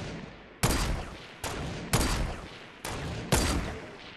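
Gunfire in the video game Fortnite: six sharp, loud shots spaced irregularly about half a second to a second apart, each with a short decaying tail, with no talk over them.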